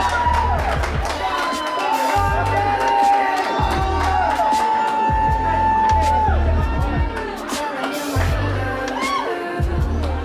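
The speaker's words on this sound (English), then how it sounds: "Everyone get loud, start cheering right now for Wilson!" A lively audience at a comedy dating show in Minneapolis cheers, whoops and shouts continuously, a dense crowd roar with scattered high yells across the whole stretch.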